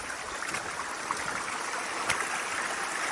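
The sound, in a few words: waterfall flowing from a mine tunnel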